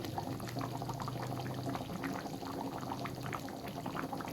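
Palong chicken gravy with spinach bubbles steadily in the pot, a constant close hiss of rolling boil with soft popping bursts and no talk.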